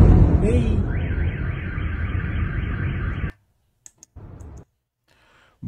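Car alarms blaring in Belgorod, a loud wailing, cycling siren with rapid clicking for about three seconds before it cuts off abruptly into near silence broken by brief faint bursts.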